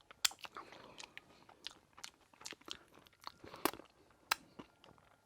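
Crunchy bites and chewing of Jack in the Box spicy tiny tacos with crispy edges, eaten plain: close, quiet, irregular crackling crunches and mouth sounds with no talk.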